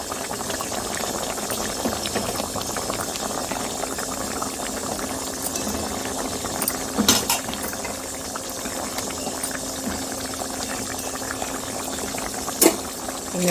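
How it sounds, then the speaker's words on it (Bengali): Fried eggs go into a bubbling egg and taro curry in a pot, a steady close simmer of bubbling liquid throughout with a couple of brief knocks, no talk. "এবার দিয়ে দেবো ভেজে রাখা ডিমগুলো"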